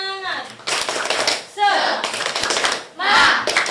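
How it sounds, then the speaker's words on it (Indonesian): Classroom group doing a rhythmic encouragement clap, with bursts of hand claps alternating with children's voices chanting together, loud and close. "Tepuk semangat"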